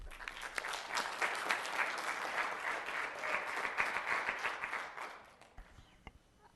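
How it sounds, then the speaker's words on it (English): Audience clapping at a city council meeting, a dense burst of applause that carries on for several seconds, then thins into a few scattered last claps. "Please refrain from clapping until the end"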